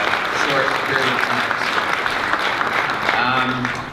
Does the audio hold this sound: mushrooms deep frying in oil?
no